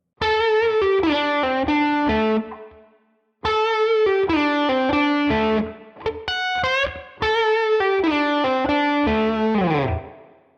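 An electric guitar with a processed, effected tone plays a Dorian improvisation phrase in three short bursts of clear picked and sliding notes, separated by brief silences, close and loud.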